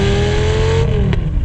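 A Lamborghini Gallardo engine revs hard and close, a loud sustained high-pitched wail that holds then drops slightly near the end as the revs ease off.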